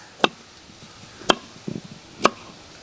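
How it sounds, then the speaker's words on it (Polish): A knife chopping carrots on a board: three sharp, separate strikes spaced about a second apart, close and fairly clear, with a faint softer clatter between the second and third. "Przygotowanie zaczniemy od obrania i pokrojenia, tak jak wspominałam, marchewek."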